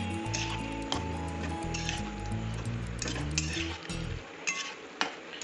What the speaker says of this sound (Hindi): अभी हम फाइनली डालेंगे इसमें ये सारे चंक्स जो मैंने फ्राई करके रखा था, इसको अच्छे से हम मिला देंगे।